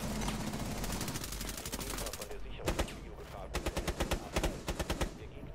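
Automatic gunfire in the video game Rainbow Six Siege: a sustained rapid burst, then a short gap, then another fast volley of sharp close shots, loud throughout, with faint voices in the background.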